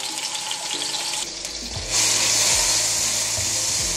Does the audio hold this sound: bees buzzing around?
no